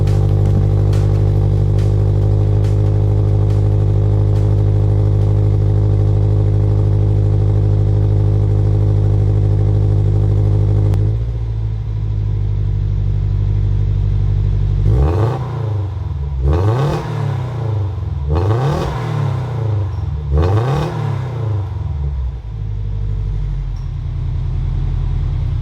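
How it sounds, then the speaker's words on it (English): Toyota GT86 fitted with an aftermarket exhaust, first idling and held at steady high revs with a loud droning tone, then blipped four times in sharp, rasping revs that fall away between bursts, close up and loud. "I'll push a few times on the accelerator and also do it in launch control, and let's compare it after with the stock exhaust."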